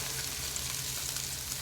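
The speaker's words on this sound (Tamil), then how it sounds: "இப்போ பீன்ஸை லைட்டா வதக்கி விட்டுறலாங்க." Finely chopped green beans sautéing in a hot pan for a beans and egg poriyal, a steady close sizzle and crackle running continuously, with no voices.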